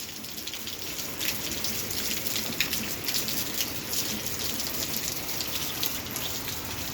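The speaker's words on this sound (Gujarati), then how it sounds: "વરસાદ ચાલુ થઈ ગયો" Steady monsoon rain falls in Chhara village in Gujarat, a dense even hiss of drops on surfaces with a continuous wash of water, close and unbroken, with no voices.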